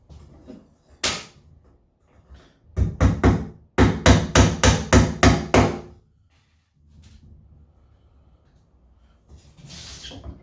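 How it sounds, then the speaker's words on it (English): Nails hammered into a wooden Hoffman beehive frame: a single knock, then two quick runs of sharp, evenly spaced hammer blows, about four and then seven strikes, loud and close, followed by quiet handling noise. "Put the frame down for nailing purposes."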